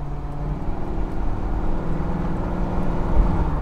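A car engine idles steadily with a low, continuous rumble, fairly close and without talk.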